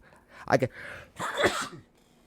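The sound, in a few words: sneeze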